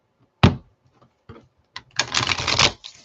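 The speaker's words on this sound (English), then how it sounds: "I'm going to do one last big shuffle. Ooh-wee, this is a lot of cards, Kyla." A large deck of cards being shuffled nearby, with a few sharp separate snaps and then a dense, loud riffling burst lasting about a second.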